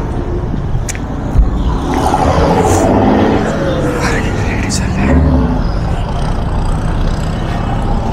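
A used first-owner Tata commercial vehicle with a large built body runs with a steady engine rumble close by, while people talk over it throughout.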